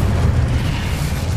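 A fire spell cast in a Hogwarts video game bursts out as a loud, steady low rumbling whoosh of flame, filling the short moment without any voices.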